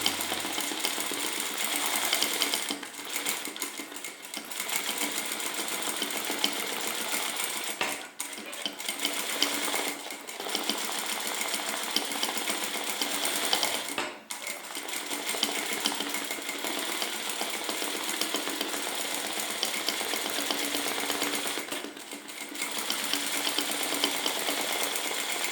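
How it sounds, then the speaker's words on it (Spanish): A straight-stitch sewing machine converted into an embroidery machine runs steadily and close by, a dense continuous mechanical whir with a few brief pauses along the way and no voices. "ya tenemos nuestra bordadora en nuestra máquina recta"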